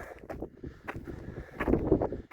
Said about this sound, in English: it's like easily up to 20-mile-an-hour gusts right now